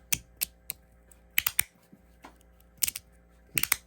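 Sharp clicks from a mechanical keyboard switch with one side of its dampener removed, struck in short uneven clusters of two or three, close and crisp over a faint steady hum.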